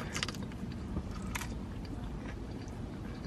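Close-up eating of chicken drumsticks, with crunchy bites and wet chewing continuing throughout, loud and near with no talking.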